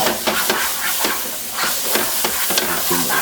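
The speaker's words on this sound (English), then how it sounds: "we'll return our shallot and mushroom mixture that we made earlier to our roux." A shallot and mushroom mixture is stirred into a roux in a pan, giving repeated scraping strokes over a steady sizzling hiss, close and even, with no talk.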